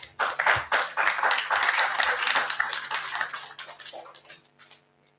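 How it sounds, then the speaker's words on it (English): Clapping from a small group at a live property investment event, with bursts of handclaps building quickly, holding briskly for several seconds, then thinning into a few scattered claps before fading out. "Clap on for James right now."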